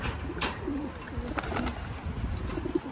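Pigeons coo softly and repeatedly inside a small loft, low throaty calls overlapping with faint rustling and wing movement close by, steady throughout without talk.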